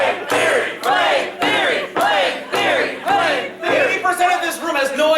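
A convention crowd at the PVCF 2019 closing ceremonies roars in loud, rhythmic chant-like bursts, about six surging shouts in quick succession, close and filling the room.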